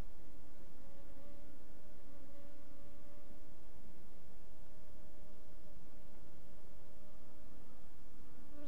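Bees buzz continuously around beehives, their pollen-laden workers filling the air with a steady, close, unbroken drone and no voices.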